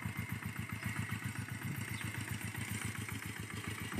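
A small Kubota walk-behind tractor engine runs steadily while preparing farmland for planting, a quick, even chugging putter with a clattery edge, close and continuous, rising slightly at the very end, with no talking.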